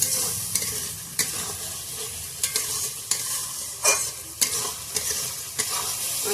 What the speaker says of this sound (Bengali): ভালো করে মশলাটা কষাই নিই।